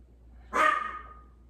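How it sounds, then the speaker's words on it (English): A single sharp dog bark indoors in a quiet house, close and fairly loud, ringing out briefly before fading. "What are you barking at, Leonard?"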